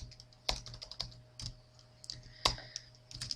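Quick, light computer keyboard keystrokes tap out text in a short irregular burst, close and fairly quiet, with no talking.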